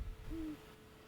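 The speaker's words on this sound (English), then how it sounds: "Heard that owl partway through the album." A single soft owl hoot, low and drawn out, heard faintly against a quiet background.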